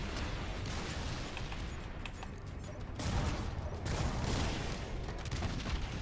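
Continuous heavy combat noise from a Halo campaign battle, with dense weapon fire and louder blasts around the midpoint and again shortly after, consistent with rocket launcher shots amid ongoing gunfire.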